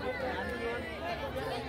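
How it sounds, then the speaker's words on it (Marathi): Pilgrims pack the grounds at Bhima Koregaon, and their overlapping chatter forms a steady, close murmur of many voices through the brief moment. "गर्दी वाढतच चालली मित्रांनो, पण काय कमी होत नाही आहे."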